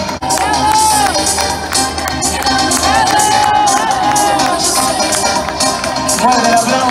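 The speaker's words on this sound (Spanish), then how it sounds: "¡Fuertes ese aplauso!" Spectators at a city mile road race in Buenos Aires cheer and shout as runners reach the finish, a loud, continuous crowd roar with raised voices and whoops, clapping buried in the din.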